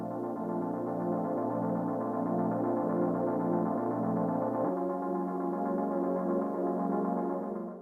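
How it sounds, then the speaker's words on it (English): A sustained synth pad for a hip-hop beat, with its lowest and highest frequencies filtered out, holds a soft, warm chord. Midway it shifts to a thinner voicing and keeps droning steadily at a low volume, alone and without voices. "The first pad sounds like this."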